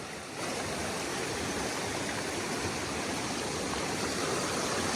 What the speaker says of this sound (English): The rain has caused a lot of flooding.